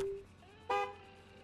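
A car horn honks in the Gas Station Simulator game, a short low toot followed by a louder, longer blast with a rich buzzing tone, heard alone at moderate distance.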